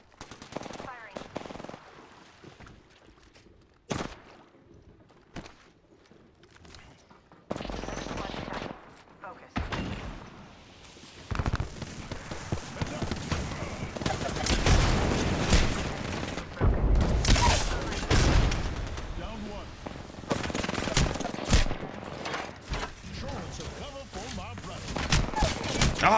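Video game gunfire: loud bursts of machine-gun fire and scattered single shots over nearly half a minute, sparse at first and then heavy and sustained, mixed with game voices and effects.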